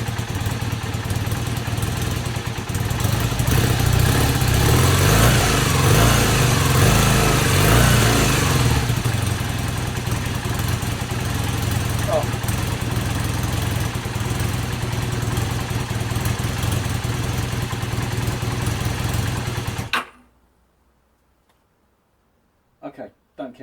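A rebuilt Honda CB250N SuperDream motorcycle, with its cam chain rattle fault fixed, idles steadily and close for about twenty seconds, then cuts out abruptly into near silence broken by a couple of faint knocks.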